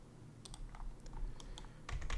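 A few quiet keystrokes on a computer keyboard while entering a command in Civil 3D, light irregular clicks ending in a slightly heavier press, close and alone.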